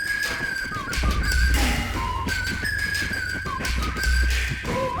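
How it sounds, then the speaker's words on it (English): Whistled melody notes ring out over music, with a clear tune, backed by rhythmic thumping beats and low bass swells, from the opening of a song. "I don't remember this weird ass whistling in the beginning of this."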